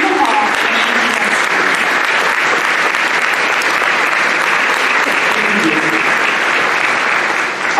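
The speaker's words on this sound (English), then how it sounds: "So please join me in welcoming to the stage Uncle Paul and Auntie" An audience at an African Children's Choir concert applauds steadily and loudly to welcome the choir conductor onto the stage, a dense, even wall of clapping that lasts throughout.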